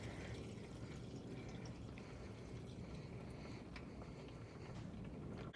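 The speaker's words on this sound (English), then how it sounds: "the whole canister is filled with diesel, so we're just going to pour it out here" Diesel fuel pours steadily from a canister, a soft continuous splashing and trickling at low volume.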